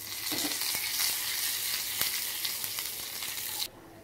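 Onion and curry leaves sizzling in hot oil for a tempering, with a bright continuous crackle and a few sharp pops that cuts off abruptly near the end; no talking.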